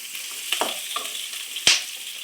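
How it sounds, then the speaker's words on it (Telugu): Onions frying in a pan for chilli paneer hiss and crackle steadily at moderate volume, with a few light stirring clicks and one sharp scrape near the end. "ఆనియన్ కొంచెం మరీ ఎక్కువ ఫ్రై అవ్వాల్సిన అవసరం లేదు, కొద్దిగా కలర్ చేంజ్ అయితే చాలు."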